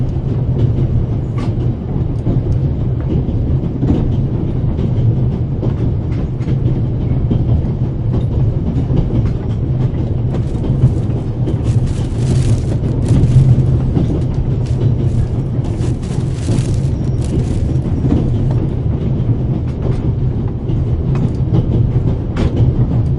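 Steady train ride on rails in the video game The Raven, a continuous loud low rumble with rhythmic clatter and occasional higher rattles throughout, no voices.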